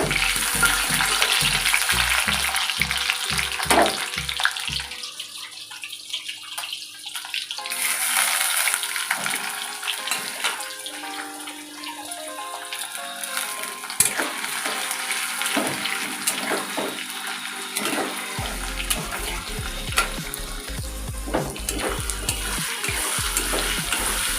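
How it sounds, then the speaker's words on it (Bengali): Potatoes fry in a pan in oil for a meat curry, a loud, continuous sizzle with rhythmic clattering of stirring at the start and occasional scrapes throughout. "মাংসের জন্য আমি আলু ভাজছি"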